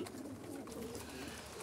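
Pigeons coo softly and continuously in a loft, a low murmuring burble steady through the short stretch with no talk.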